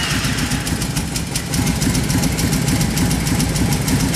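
An engine run without choke chugs and labours continuously at close range, a loud, rough, rhythmic rumble that never settles, with no talking.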